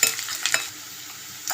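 Chana dal, onions, green chillies and curry leaves fry in a pan with a light sizzle and a few quick stirring scrapes at the start and the end.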